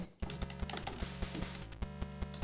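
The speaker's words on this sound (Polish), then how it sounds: "Nie wiem, czy to jest w moim padzie tak, ale strasznie głośno klikają" Xbox One controller LB and RB bumper buttons clicked repeatedly, a run of sharp, loud, fairly regular clicks close to the microphone.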